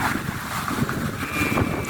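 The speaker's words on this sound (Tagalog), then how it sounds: "Grabe yung hangin oh" Strong wind from a whirlwind in Calasiao, Pangasinan buffets the microphone in continuous, rough gusts, a loud steady roar with no voices.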